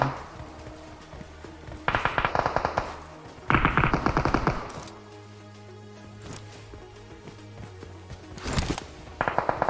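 Rapid automatic gunfire in PUBG Mobile, a close burst around two seconds and a louder sustained volley near three and a half seconds, then quieter scattered shots and a final burst near the end over game ambience.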